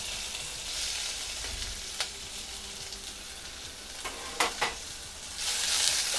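Finely chopped onion frying in a pan for aloo paratha filling gives a steady, moderate sizzle with a few sharp clicks of stirring utensil against the pan, no voices.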